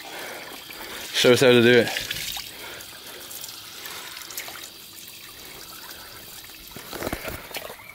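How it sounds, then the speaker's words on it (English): Water runs steadily from a tap at a roadside stop on a bicycle journey from Albania to North Macedonia, a soft continuous trickle under the ambient noise, with a voice speaking briefly near the start. "So that's what I'm gonna do, drink the water from the tap."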